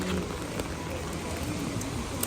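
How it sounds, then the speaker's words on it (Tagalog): Steady rain falling outdoors on a street while out shopping, a dense even hiss of drops throughout with faint voices in the background. "Naulan, my God. Nakakainis."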